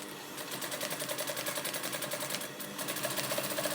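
A sewing machine stitches Thai trousers, its steady rapid needle rhythm running continuously and fairly close, with a brief pause midway before resuming.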